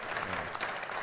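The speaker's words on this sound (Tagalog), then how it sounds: "Itong si Franz Castro, pumapalakpak pa siya" An audience claps steadily through a short, dense burst of applause, with no voices rising above it.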